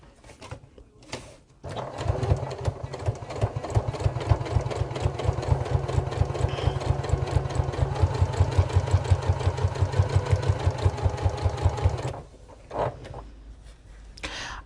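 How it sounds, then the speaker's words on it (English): A sewing machine stitches a sewn tool wallet with zips at a quarter-inch seam, a steady close rhythmic whirring run of about ten seconds bracketed by quieter handling sounds. "I'm just going to sew these together using 1/4 inch seam allowance."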